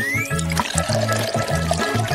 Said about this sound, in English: pour in some chocolate milk. And Starbucks coffee.